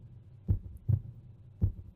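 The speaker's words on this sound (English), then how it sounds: "I heard some heartbeat action." Three low, deep heartbeat thumps from the video game Radiant Historia, spaced unevenly and standing out alone over a faint low hum.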